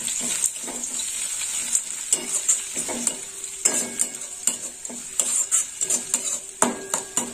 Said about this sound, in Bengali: এই গরমে যতটা ধনে পাতাটা ভাজা হবে